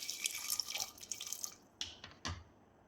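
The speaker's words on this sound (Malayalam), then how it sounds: "ഇത് കുക്കറിലേക്ക് ഇട്ട് കൊടുത്ത് കുറച്ച് വെള്ളം ഒഴിച്ച് നമുക്കിത് വേവിച്ചെടുക്കാം" Water is poured into a pressure cooker holding carrots, a quiet trickling splash that runs for about a second and a half, then trails off into a few separate drips.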